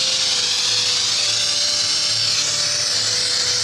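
A loud, steady mechanical whine with a high hiss and a low hum runs unbroken throughout from a vacuum pump running close by during jewelry casting.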